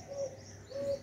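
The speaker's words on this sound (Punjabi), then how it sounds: "ਗਾਨੇ ਵਾਲੀ ਘੁੱਗੀ ਦੀ ਆਵਾਜ਼ ਹੈ।" Dove cooing twice in a soft, hooting rhythm, each mellow note brief and clear, with a gentle outdoor hum beneath.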